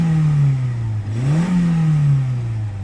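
A car with a five-speed manual gearbox revs its engine close by, a steady droning hum that dips, rises in a short rev and then settles again, with no voice.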